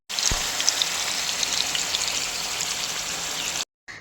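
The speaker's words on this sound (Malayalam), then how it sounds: "നമുക്ക് ചിക്കൻ പീസൊക്കെ വറുത്തെടുക്കാം കേട്ടോ." Chicken pieces sizzle and crackle steadily in hot coconut oil in a pan, a loud, dense frying hiss that continues without pause before cutting off abruptly near the end.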